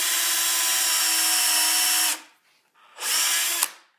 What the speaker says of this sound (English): I'm just going to grab my other drill and just drill a new hole right here.